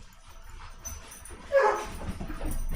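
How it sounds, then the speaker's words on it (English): Pet dogs give a faint whimper followed by a quick yip, muffled and somewhat distant against a low background rumble. "my dogs have decided to make some noise"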